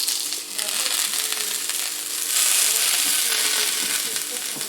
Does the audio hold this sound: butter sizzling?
yes